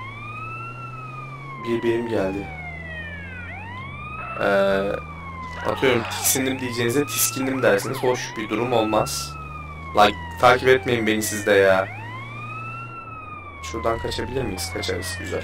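A wailing ambulance siren from GTA San Andreas sweeps up and down repeatedly under game engine drone, close and loud, while someone talks over it throughout.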